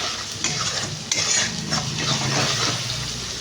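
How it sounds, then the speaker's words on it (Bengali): Spice masala with tomato and sugar being stir-fried in a pan, busy sizzling under repeated scraping strokes of a spoon against the metal, close and without voices. "এবার এই মশলাটাকে কষিয়ে দেবো"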